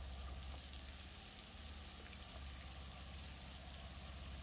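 Water runs from the hot water tap of a travel trailer during winterizing, a faint, steady hiss and splatter heard alone under a low hum.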